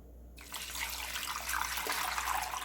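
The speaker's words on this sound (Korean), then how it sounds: "물을 부어주세요." Water pours steadily into a pot holding sliced radish, a continuous close splashing rush that starts abruptly and keeps flowing without pause.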